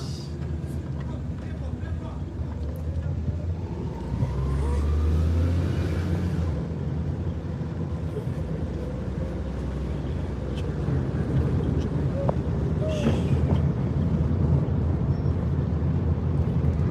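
A car driving at night through a built-up residential estate in the city of Asaba, Nigeria, with a steady low engine and road rumble throughout and a brief swell of passing traffic midway.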